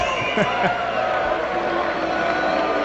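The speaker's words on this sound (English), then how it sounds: "The crowd is booing." A sports-arena crowd boos at the end of an Ultimate Athlete match, a steady, loud wash of disapproving voices filling the whole stretch with a few shouts rising out of it.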